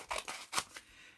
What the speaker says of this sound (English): I'm just going to get myself a pair of scissors